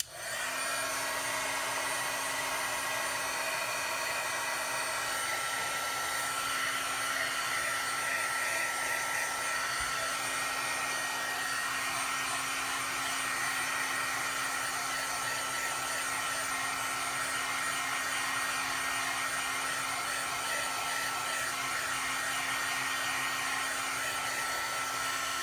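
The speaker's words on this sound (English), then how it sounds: "So I'm going to use my heat gun." Heat gun blowing steadily to dry smeared Zig marker ink on a craft project, a continuous loud whooshing roar with a high whine that runs unbroken for the whole stretch, close and alone.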